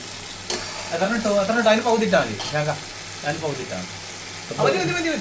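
A fish head curry with tomato and chili powder is stirred in a sizzling pan, with scraping stirs and steady frying hiss close up while a voice talks over it.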